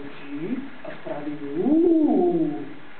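A voice imitates an owl with a drawn-out, wavering hoot-like call that rises in the middle, following a few short spoken words.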